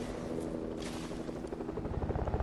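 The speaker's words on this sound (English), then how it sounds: "That's a helicopter." In the video game Fortnite, a helicopter's rotor thumps in a fast steady pulse, quite close and loud, with no talk over it.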